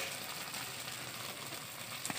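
A spice paste of ginger and garlic with salt, turmeric and cumin powder sizzles steadily in a pan for an egg curry, a continuous close hiss without talk.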